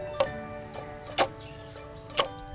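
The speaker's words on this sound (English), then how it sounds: "It is a clock. Tick-tock, tick-tock." Clock ticking nearby, with a few crisp ticks spaced about a second apart against quiet background hum.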